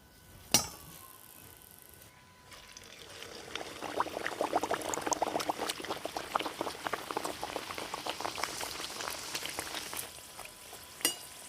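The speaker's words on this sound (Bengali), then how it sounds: "এইভাবে কিন্তু বাকি কচুরিগুলোকেও আমি ভেজে নেব।" Kochuri puff and fry in hot oil, giving a steady, dense bubbling sizzle that builds after a sharp knock and continues evenly with scattered crackles.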